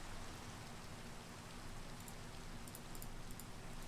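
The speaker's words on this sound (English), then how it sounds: "Fishing in the night. In the rain." Rain falls in Minecraft as a soft, steady hiss of drops at low volume, unbroken for the whole stretch, with a few faint high ticks near the end and no voices.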